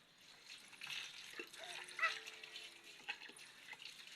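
Water runs from a tap into a bucket in a steady, close rush of noise, with brief high whimper-like sounds and small knocks over it.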